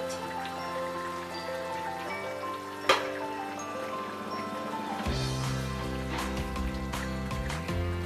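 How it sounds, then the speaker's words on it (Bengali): Pieces of rui fish dropped into boiling Bengali fish curry gravy, a soft bubbling simmer with a few sharp splashy taps, sitting under steady background music. "এবার এর মধ্যে আমরা মাছগুলো দিয়ে দিচ্ছি।"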